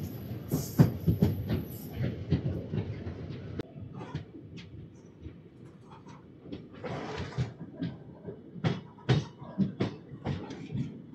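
The Guntur–Rayagada Express 17243 rolls on, heard from on board as irregular clickety-clack wheel knocks and rattling carriage thuds over a low running rumble.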